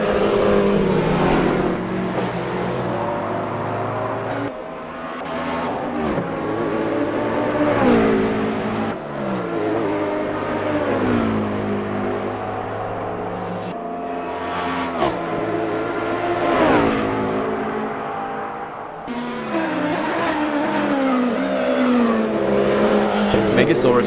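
Assetto Corsa race cars, Le Mans Daytona hybrid (LMDh) class at Road America, roaring continuously with rising revs, sharp downshifts and cars passing close by, a voice occasionally talking under the engine noise.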